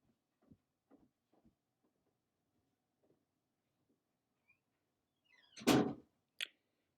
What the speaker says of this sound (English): Please close my door.